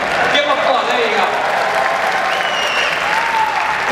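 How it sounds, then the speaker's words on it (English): Keynote audience at a large tech conference breaks into loud, sustained applause, dense clapping filling the hall evenly for the whole stretch with a few scattered voices and whoops mixed in. "give them applause"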